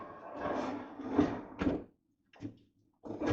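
An office door closes back into its frame, a wooden sliding and rubbing sound followed by a soft thud, then a brief latch knock after a moment of silence, close by.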